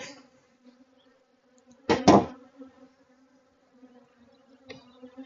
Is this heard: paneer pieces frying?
no